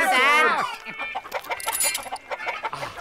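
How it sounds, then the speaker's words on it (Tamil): Cartoon chickens cluck and squawk in a rapid, busy burst, with a strong rising cry at the start and then a flurry of overlapping clucks in a comic farmyard chase. "எல்லாரும் சேர்ந்து அந்த கோழிகளை பிடிங்க பிடிங்க"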